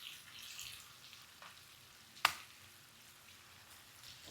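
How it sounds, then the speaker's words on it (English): Blackened salmon fillets fry in a pan with a soft, steady sizzle and hiss. A single sharp click or pop stands out midway, and no one talks. "let me flip these little guys over"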